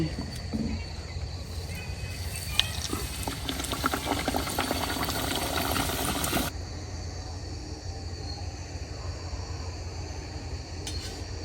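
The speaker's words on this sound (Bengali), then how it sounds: "কচুরি গুলা ভাজছে।" Kachuri frying in hot oil on a winter evening, a steady dense sizzle and bubbling that runs the whole time, briefly busier and louder before easing to a quieter fry.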